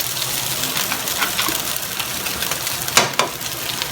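Squid balls and chicken balls fry in a pan for homemade lomi, giving a steady soft sizzle throughout with a brief louder hiss and stir near the end.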